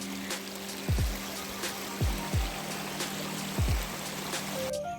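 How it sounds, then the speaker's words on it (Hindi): Steady rushing flow of a mountain waterfall stream on the route from Chamba to Bharmani Mata temple, a constant broadband wash with a few low thumps, heard alone with no talk. "यहाँ पे हमें पानी के झरने भी मिले।"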